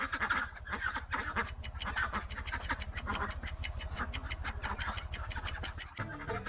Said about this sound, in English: Yeah, a duck.